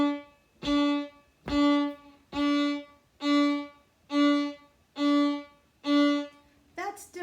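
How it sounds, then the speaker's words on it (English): Violin plays a Suzuki Allegro passage in staccato: seven short, evenly spaced bowed notes with clear gaps between them, heard close and alone, followed by a brief quicker flourish at the end. "So staccato notes sound like this"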